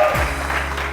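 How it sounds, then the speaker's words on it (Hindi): A brief burst of studio audience applause on a TV morning show, dense and steady clapping, fairly loud and close. "बहुत सारी तालियां नूरपुर के लिए यार।"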